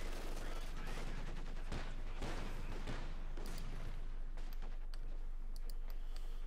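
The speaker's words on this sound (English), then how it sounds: "In this case, they're just getting shot at." Rapid gunfire and bursts of machine-gun fire from a Company of Heroes 2 battle, sharp dense cracks crowding the first few seconds and then thinning out, under a constant low hum.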